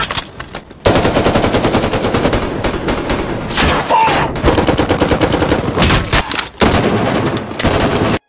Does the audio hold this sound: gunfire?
yes